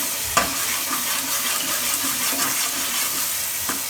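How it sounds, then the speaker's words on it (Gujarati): Dried fenugreek leaves (kasuri methi) hit hot oil in a pan, giving a steady, moderate sizzle with a few crackles and stirring clicks throughout, no talking. "હવે કસૂરી મેથી આ રીતે તેલમાં નાખીએ એટલે એને એકદમ સરસ ફ્લેવર આવશે."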